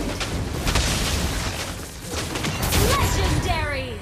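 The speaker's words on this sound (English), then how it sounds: "Our turret has been destroyed." A turret is destroyed in the Mobile Legends video game, with a burst of booming explosion effects and rattling impacts, loud and dense, under game announcer voice lines and busy battle noise.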